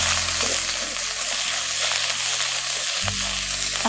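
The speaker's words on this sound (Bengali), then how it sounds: "আদা কাঁচা লঙ্কা বাটাটা ওর মধ্যে দিয়ে আদাটাকে একটু কষে নেব" Ginger and green chilli paste frying in a pan, a loud close continuous sizzle with faint stirring scrapes and a brief shift near the end, no talking.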